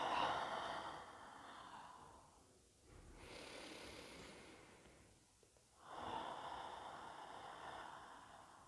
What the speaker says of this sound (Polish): I wydech ustami.